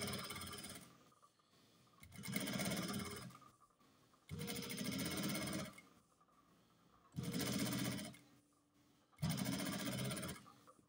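A sewing machine top-stitches black and white tracksuit jacket panels in four loud, steady bursts of rapid whirring, each a second or two long, separated by short quiet pauses.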